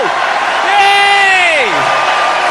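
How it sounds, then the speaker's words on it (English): A Wolverhampton crowd at the 2009 PDC Grand Slam of Darts final cheers as a steady roar behind a loud, gliding voice that carries over it throughout. "And the crowd's been absolutely fantastic. Look at this Wolverhampton crowd!"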